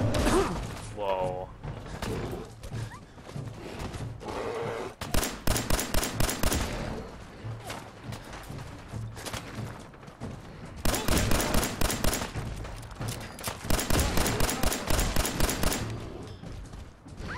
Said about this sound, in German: irgendwas hat auf mich geschossen